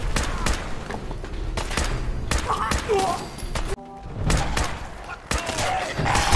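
Fallout 4 gunfire: repeated sharp shots and bursts in rapid irregular volleys, loud and close, with a brief lull midway, under intermittent talk.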